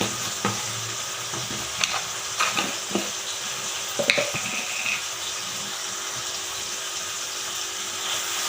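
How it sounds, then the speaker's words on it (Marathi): Turmeric and homemade garam masala frying in oil in a pan, a soft continuous sizzle broken by scattered scrapes and taps of a spoon stirring. "हे छान परतून घ्यायचं"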